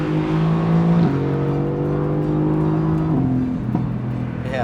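A 2017 Mercedes AMG GT C Coupe engine pulls hard from inside the cabin, its loud droning note climbing, dropping briefly at each gear change, then climbing again, over steady road rumble.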